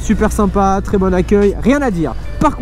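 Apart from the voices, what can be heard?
No everyday noises stand out.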